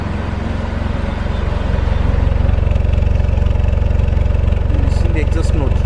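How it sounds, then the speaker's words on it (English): A 2019 Jaguar F-Type R Dynamic 5.0 V8 idles with a deep, steady rumble, loud and close, its low throbbing exhaust tone holding throughout. "The exhaust note."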